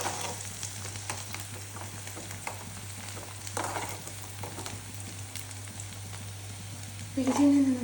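Spices and onion tempering in hot coconut oil give a steady, close crackling sizzle throughout, swelling into a louder hiss near the end as more goes into the pan.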